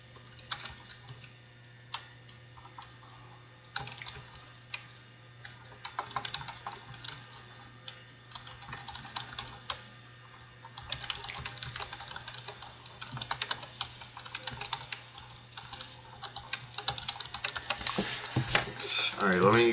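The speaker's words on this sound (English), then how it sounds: "let me just type some stuff first" Computer keyboard typing while writing a Roblox script, bursts of close, quick key clicks that thicken into denser runs in the second half, over a low steady hum, with brief speech near the end.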